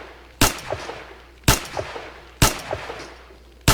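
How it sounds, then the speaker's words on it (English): Suppressed sniper rifle shots in the survival game 7 Days to Die, three sharp evenly spaced reports about a second apart, each followed by short clattering echoes, with a fourth starting at the end, no talk. "the suppressed sniper rifle isn't as strong as the other sniper rifles, but it's quiet"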